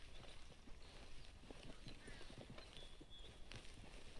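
Horse hooves clip-clop at a walking pace in Red Dead Redemption 2, a steady series of soft hoof strikes under faint ambient sound, with occasional voices.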